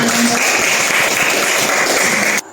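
Classroom students clapping together, a loud, continuous dense patter of many hands that stops abruptly just before the end.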